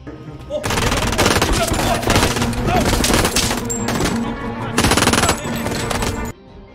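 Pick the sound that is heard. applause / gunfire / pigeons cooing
gunfire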